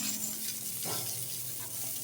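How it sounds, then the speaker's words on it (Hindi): Vegetables and chopped garlic sizzle steadily in hot oil in a pan, a continuous close frying hiss with faint stirring and no voices. "इसी ऑयल में डाल देंगे वेजिटेबल्स को"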